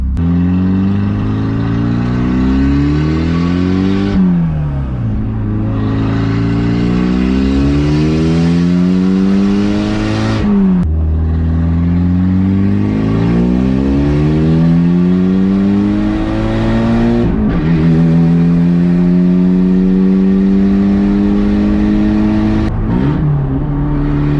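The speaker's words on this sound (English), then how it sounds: "here's the first couple rips with the Megan Racing downpipe" A Mitsubishi Eclipse GSX engine with a Megan Racing downpipe revs hard several times, a deep raspy exhaust note rising in pitch and dropping back between pulls, loud and close.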